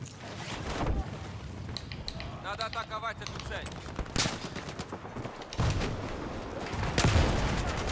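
Gunfire rattles in bursts through a Battlefield 4 Rush match on the Golmud map, with a tank nearby. Sharp, repeated volleys come close and loud, mixed with mechanical clatter and a voice talking over the fight.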